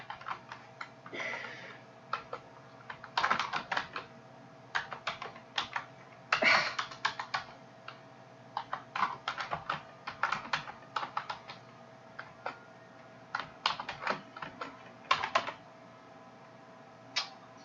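Someone types on a computer keyboard in an office training session, with irregular bursts of close, crisp key clicks separated by short pauses over a faint steady hum, and no talking.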